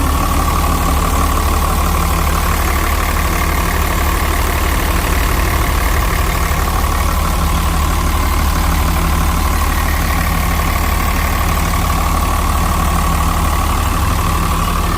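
A Komatsu WA150-3 wheel loader's six-cylinder 6D102 diesel engine idles loudly and steadily up close, a constant low rumble with a droning hum, no voices.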